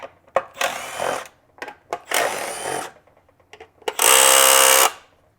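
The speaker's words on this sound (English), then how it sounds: "so the impact will take these off" Three loud bursts from an impact driver backing screws out of a Stihl BR 600 backpack blower engine, each a dense rattling whir lasting about a second, the last one strongest, with small clicks and handling noises between.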